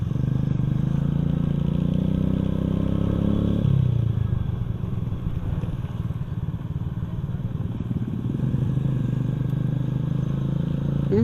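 Motorcycles rumble past on a busy Philippine road at rush hour, a loud, continuous engine drone that shifts pitch as one bike fades and another takes over, with traffic clatter around.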